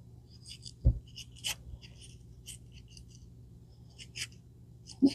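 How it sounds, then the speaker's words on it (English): A small knife cuts the hard core out of a tomato on a kitchen counter, giving faint, quiet scraping and slicing strokes with a couple of soft thuds. "And I'm going to cut this end out of this tomato."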